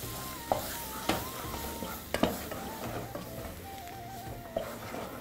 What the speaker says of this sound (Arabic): ونقلب بقى كده